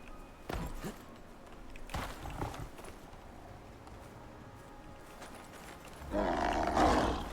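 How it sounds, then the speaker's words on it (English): Jaguar in the survival game Icarus lets out a close, angry roar that swells loudly near the end, preceded by low growls and a few thudding steps. "Nope, not Komodo. Jaguar."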